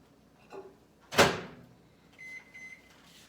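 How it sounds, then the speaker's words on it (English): A microwave oven door pops open with one sharp clunk, followed by a few soft beeps in a quiet kitchen. "Let me get it out of the microwave."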